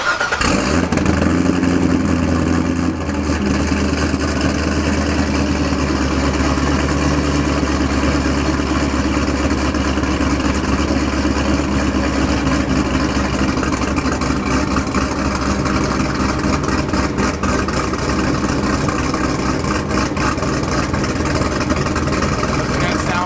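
A car engine cranks and catches, then settles into a steady, loud, even idle that runs on unbroken.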